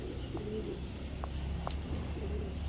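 A female pigeon coos softly and low in a quiet breeder setup, a faint throaty murmur with a few small clicks and rustles.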